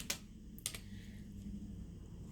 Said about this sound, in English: we're going to type in Plain White Tees to see what they have